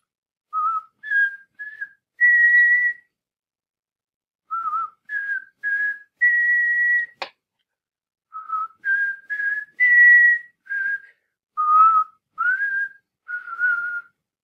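Someone whistles a melody passage in short clear phrases separated by pauses, close and alone, with one sharp click partway through.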